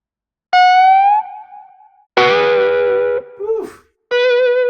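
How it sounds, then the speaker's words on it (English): Three short electric guitar one-shots from a sample pack, heavily processed with distortion, chorus and echo, each a bright riff or lick separated by brief pauses, played alone without talk. "With the guitar one-shots, I'm really proud of these. It's just a handful of riffs and kind of like licks that you can include in your beats"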